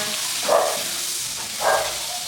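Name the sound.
sizzling sauté of garlic and onion in a pan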